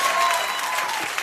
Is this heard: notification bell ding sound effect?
no